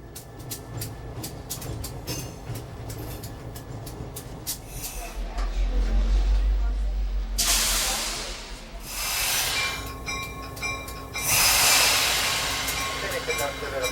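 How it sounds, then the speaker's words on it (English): A steam locomotive of the Lehigh Gorge Scenic Railway runs around its train near Jim Thorpe, producing loud, continuous hissing and rumbling with surges of broadband steam noise, close by and steady, with faint voices underneath. "the engine will be run around to the other end of the train for the trip back to the town of Jim Thorpe"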